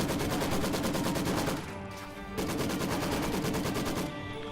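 Maxim machine gun fire in the strategy game Company of Heroes 2, rapid sustained bursts of automatic gunfire with a short pause midway, loud and dense, no voices.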